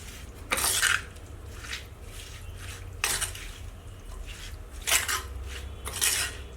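Prawns being mixed with ground coconut masala in a pot for a Kannur-style curry, with several sharp scraping clinks of a spoon against the vessel spaced a second or two apart over a low background.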